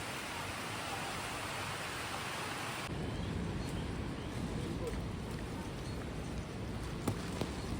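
Heavy monsoon rain drums steadily on the mountain trail from Gaurikund to Kedarnath, a constant dense hiss with a few sharper drops standing out near the end.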